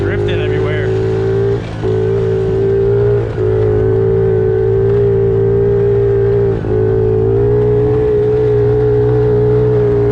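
A pit bike engine drones loudly and steadily on a trail ride, holding a high revving note with brief dips as the throttle eases, close to the rider; some talk may blend in.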